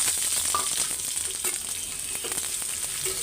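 Bitter gourd fries with onion and chilies in a pan, a constant close sizzle with a few light stirring clicks and taps.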